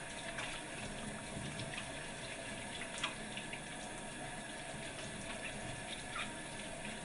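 Tap water runs steadily as soapy hands are rinsed under it at a sink, a close, continuous rushing stream with faint splashes and no talking.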